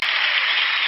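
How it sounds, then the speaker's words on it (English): A brief, dense burst of applause, bright and steady, cutting in abruptly and lasting under a second with no voices over it. "Hold the applause"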